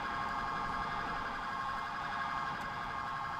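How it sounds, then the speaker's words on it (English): A police siren from GTA IV with the LCPDFR police mod wails steadily and loudly, continuous and close, with no talking over it. "Whose freaking siren is that?"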